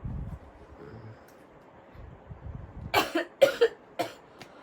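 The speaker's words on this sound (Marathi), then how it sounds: "मला प्रमाणा बाहेर खोकला झालाय" Several harsh coughs from a woman with a heavy cough come in a quick cluster near the end, after a stretch of soft rustling.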